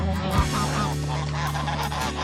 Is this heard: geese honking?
yes